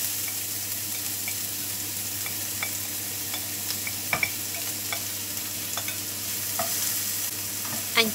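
Garlic, ginger and onion fry over medium heat in a pan for a Sri Lankan fish curry, a continuous close sizzle broken by the scrape and tap of stirring, with no talking.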